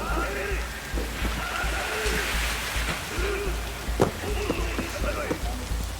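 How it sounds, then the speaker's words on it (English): Steady rain falls in the video game Cyberpunk 2077, a continuous hiss of drops with a brief sharper splash near the middle, while a voice talks over it at times. "Just sitting in the rain, huh?"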